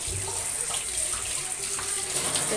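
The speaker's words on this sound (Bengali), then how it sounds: "দেখুন পাতাগুলো সুন্দর করে ধুয়ে দিয়ে আমি সাজিয়ে রাখতেছি" Tap water runs steadily while bottle gourd leaves are washed under it, a continuous close splashing hiss with slight flutters as the leaves move through the stream, and no talk.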